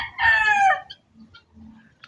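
A rooster on a farm gives one loud, close crow, followed by a few soft clucks and faint chicken calls, with no talk.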